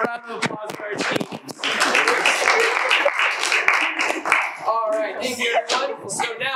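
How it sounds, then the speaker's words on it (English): A round of applause for a student team at a quiz-game event, a brief burst of dense clapping in the middle, with people talking just before and after it. "round of applause for our team"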